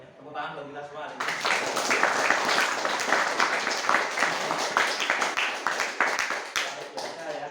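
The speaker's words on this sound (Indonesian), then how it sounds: "Tepuk tangan bagi kita semua hari ini." Students in a vocational automotive class, just back from a lesson on dismantling and repairing a transmission, break into group applause. After a short quiet start, continuous close clapping fills the rest.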